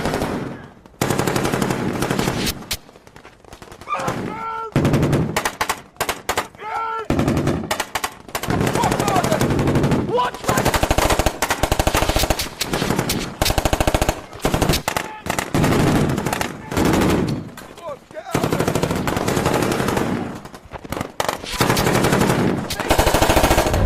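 Intense battle sounds: rapid bursts of machine-gun fire and gunshots, loud and close, with brief pauses between volleys.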